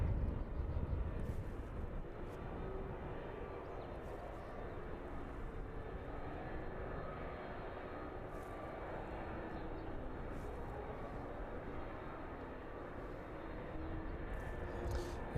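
At East Midlands Airport in the evening, a steady, faint jet-engine rumble comes from an Airbus A300 taxiing out under its own power, with distant talk and radio chatter over it.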